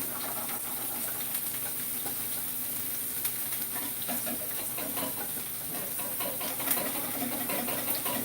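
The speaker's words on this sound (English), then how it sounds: "Now this is some lemon juice, keep whisking." Butter and lemon juice whisked in a pan while cooking, giving a steady, close hissing sizzle with faint scraping and stirring textures throughout, no voices.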